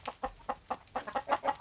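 Chickens cluck in a quick, steady series of short pulses, close by with no other sounds.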